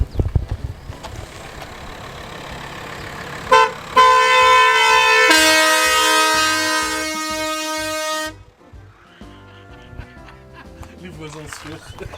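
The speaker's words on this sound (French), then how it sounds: "il a un klaxon de camion" A neighbour's truck-style air horn blasts several times, loud and sustained, with a long chord-like toot over nearby outdoor noise and voices.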